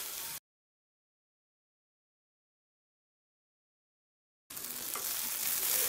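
Tomatoes and capsicum sauté in a hot pan, giving a steady close sizzle heard briefly at the start and then again after a silent gap.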